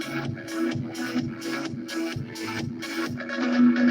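A processed studio kick drum with added bounce pumps in a regular beat within a full, busy electronic mix, the hits evenly spaced under sustained synth layers that swell toward the end.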